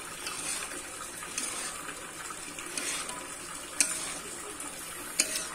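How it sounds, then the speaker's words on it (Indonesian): Eggplant with spices is stirred in a pan over a low flame, a soft steady sizzle under scraping and a few sharp clinks of a utensil against the pan, close by, with no talk. "Kita aduk sampai bumbunya itu tercampur rata dengan terong ya teman-teman."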